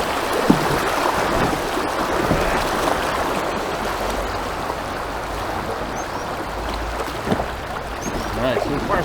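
River water rushes and churns around a paddleboard moving over rocks on a murky river, a steady broadband wash with occasional splashes and knocks close by.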